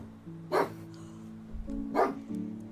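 A pet dog named Daruk gives two clear barks about a second and a half apart, fairly close indoors, with a low game or background hum underneath.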